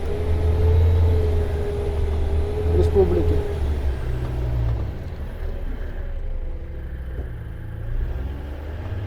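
All-terrain snow and swamp vehicles on low-pressure tires drive along an off-road winter track, a steady loud engine rumble with a droning tone throughout, while someone talks over it.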